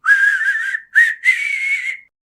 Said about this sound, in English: whistling his own macabre funeral song